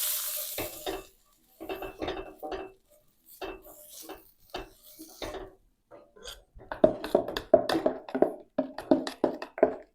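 Urad dal dosa batter for leaf dosa is stirred in a vessel, giving intermittent bursts of scraping and clinking strokes, close and fairly loud, becoming quicker and denser toward the end.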